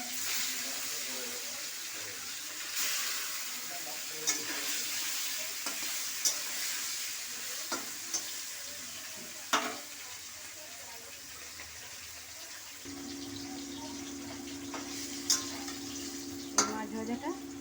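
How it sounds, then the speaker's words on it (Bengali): Rohu fish frying in hot oil in a home kitchen, giving a steady soft sizzle with occasional sharper spatters and pops, moderately close, later joined by a thin running-water tone; no one speaks. "তেলটা হয়ে গেছে, এবার আমি মাছ দিয়ে"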